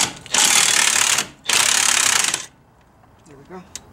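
A hand ratchet loosens a bolt on the front suspension of a four-cylinder Foxbody Mustang, with two loud, close bursts of rapid clicking separated by a short pause, then quiet with faint clinks.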